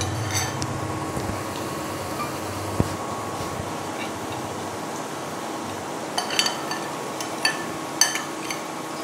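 Chicken Manchurian ingredients being mixed in a bowl: soft scraping and stirring with light clinks of utensil against the bowl, a few sharper clinks late on, over a steady low room hum.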